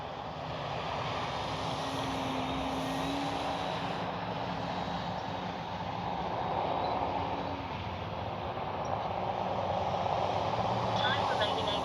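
An RC F4U Corsair scale model airplane flies overhead with a steady, droning engine buzz that swells and eases slightly as it passes, moderately distant over open-air background noise.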